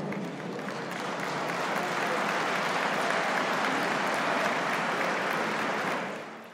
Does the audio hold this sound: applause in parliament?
yes